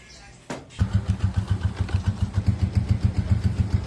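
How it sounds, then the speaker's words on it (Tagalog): Newly bought motorcycle engine kicked into life after a short starter burst, then settling into a loud, close, even chugging idle with rhythmic pulses. "kuha muna namin itong nabili namin motor"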